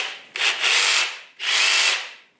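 Ryobi 18V One+ pendulum jigsaw (R18JS7-0) cutting in two close, steady bursts of buzzing, fairly quiet motor-and-blade noise, separated by a brief pause, with no voices.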